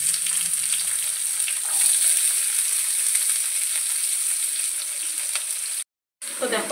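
Finely chopped onion frying in hot oil with dried chilli, bay leaf and cumin, giving a continuous close sizzle and stirring noise that breaks off briefly near the end and then comes back.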